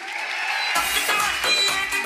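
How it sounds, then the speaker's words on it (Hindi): Loud applause from an audience at a stage event in India, a sudden wash of many hands clapping that bursts in after a quiet start and carries on steadily to the end, close and full. "इनके लिए जोरदार तालियां बनती कि नहीं बनती?"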